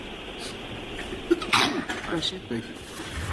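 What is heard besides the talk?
sneeze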